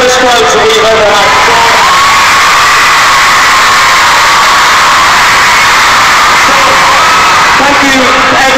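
Continuous deafening screams and cheers from a huge concert audience inside Amsterdam's Ziggo Dome, a sustained shrill wall of sound, with talking faintly buried under the noise.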